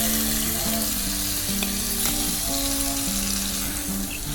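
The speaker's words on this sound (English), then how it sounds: "Now time to add marinated cuttlefish." Marinated cuttlefish frying in a hot pan with ginger and garlic paste, a loud continuous sizzle with stirring scrapes and a few utensil knocks, close by and without speech.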